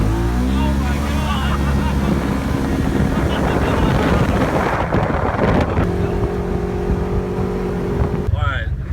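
A nitrous-equipped RZR 1000 side-by-side accelerates hard on a street, its engine roaring loud and unbroken with heavy wind buffeting, while voices shout over the noise.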